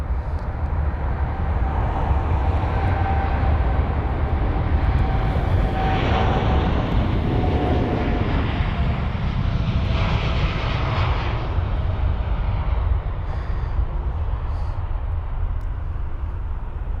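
An Airbus A380 jet roars on its take-off run at London Heathrow at sunset, a loud, steady engine rumble with a broad rushing hiss that swells slightly midway and holds for the whole stretch.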